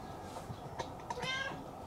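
A couple of faint, short meows from tied-up, hungry kittens rise quietly over low background noise, with a slightly longer cry toward the end.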